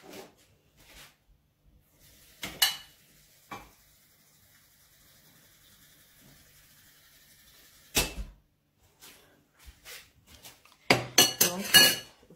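A soup spoon clinks against a small container of water in a home kitchen during fritter-making. Scattered separate clinks and taps sound close and bright against near silence, with a flurry of knocks at the end.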